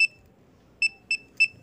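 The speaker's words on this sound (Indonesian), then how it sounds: "Nah ini bunyi. Motornya, alarmnya bunyi." A nine99 A2 motorcycle alarm on a 2022 Honda Beat Street sounds four short, loud electronic beeps, one alone and then three in a quick, evenly spaced run, over a faint background hum.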